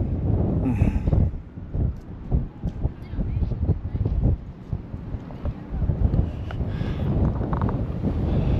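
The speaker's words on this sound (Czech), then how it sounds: "tady strašně fouká" Strong coastal wind near San Francisco buffets the microphone in heavy, uneven gusts, a loud rumbling roar that swells and dips throughout, with faint voices mixed in.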